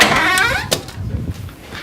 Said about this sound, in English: they've got the best sounding door